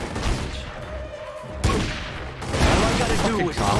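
Gunfire from The Godfather 2 video game, loud bursts and sharp shots packed closely together with booming impacts, over a dense layer of game sound.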